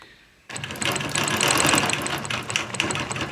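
A sewing machine quilting along a Taj ruler starts up after a brief quiet moment, then runs as a fast, steady mechanical whir with rapid needle ticks, close and loud.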